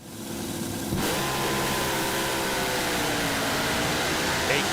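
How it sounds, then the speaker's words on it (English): Drag racing cars roaring side by side down the strip, a sudden loud burst of engine noise kicking in after a quieter first second and holding steady at full volume to the end. "A great side-by-side drag race"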